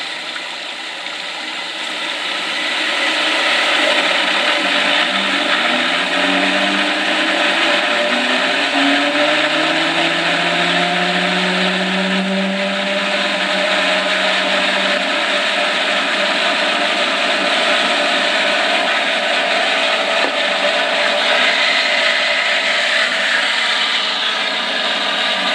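Micro hydro turbine starting up and running, a loud steady whirring roar with rising tonal whine as it spins up, continuous under rushing water noise throughout.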